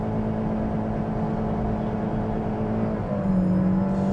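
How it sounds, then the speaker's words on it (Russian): A Toyota Corolla Fielder 1.8 with a CVT accelerates in sport mode, its steady engine drone rising in pitch near the end. The drone is close and moderately loud, with no talk. "Итак, даем газу, спорт-режим."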